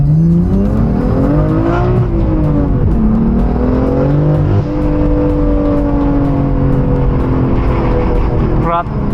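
A modified Mazda RX7 on upgraded tires drives hard through corners, its loud rotary exhaust droning and rising and falling in pitch with throttle changes, heard close up from inside and largely masking a voice.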